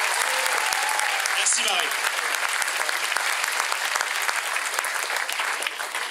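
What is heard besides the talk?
audience applauding after a performance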